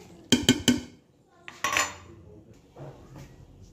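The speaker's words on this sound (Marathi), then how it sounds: "कोथिंबीर घेतली, मिरची घेतली चिरून, कांदा आणि खोबरं हे आपण ह्याच्यात मिक्स करायचं." Medu vada batter is being mixed with coriander, chopped chilli, onion and coconut: three quick clinks of a utensil on a bowl, then softer scraping and stirring, alone and fairly quiet.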